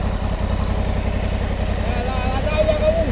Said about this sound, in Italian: motore sotto al gas.